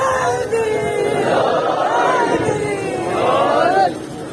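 At a majlis, a crowd chants slogans together in rising, rhythmic unison that swells and then cuts off abruptly.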